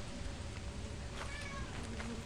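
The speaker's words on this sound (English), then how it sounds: "Oh, my cat is meowing" A pet cat meows a few times, faint and thin, beneath a loud steady wash of game noise and background sound.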